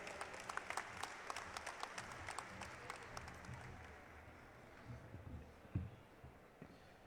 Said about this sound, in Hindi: आप सब ताली बजा करके उनका स्वागत करेंगे।